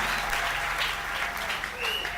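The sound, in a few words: congregation applause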